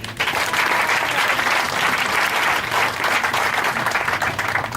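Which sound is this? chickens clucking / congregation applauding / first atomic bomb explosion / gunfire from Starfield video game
congregation applauding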